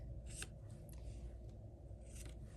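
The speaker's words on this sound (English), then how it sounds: "then we're going to trim off the extra bits" Scissors trim the excess paper from a layer for a handmade Stampin' Up! card, giving soft, close snipping and rustling cuts over a low steady background hiss.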